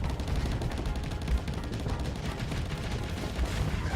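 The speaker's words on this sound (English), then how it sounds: "God, that's a lot of cannon fire." Heavy cannon fire in the space combat game Starsector, a dense, steady barrage of rapid booming shots rumbling continuously and evenly throughout.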